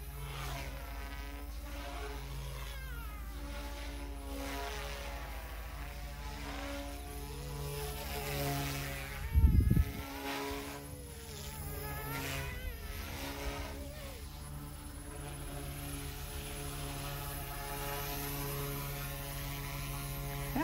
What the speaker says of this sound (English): An annoying whine at this head speed.